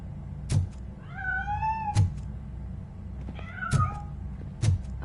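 Meowing from a cat in the video game RoboCop: Rogue City, two drawn-out, rising and falling meows set between several sharp thuds, heard alone with no talk.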